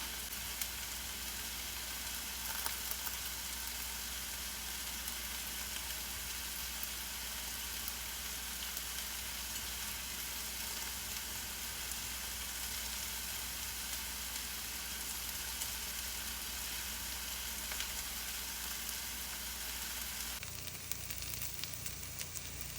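Sliced onions saute in a pan for an egg roast, a soft, steady sizzle that runs quietly and evenly, with a brief change in tone near the end and no voices.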